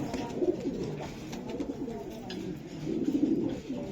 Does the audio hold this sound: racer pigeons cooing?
yes